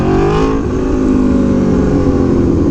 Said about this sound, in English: it is a 2017 Aprilia Tuono V4 1100 factory